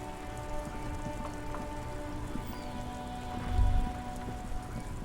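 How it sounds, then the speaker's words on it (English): Steady rain patters on the blue-and-white police motor carriage in Disco Elysium, a soft continuous drizzle of droplets with faint ambient hum beneath and a brief low thump near the end, no voices. "Droplets of rain fall on the white on blue police livery of the motor carriage."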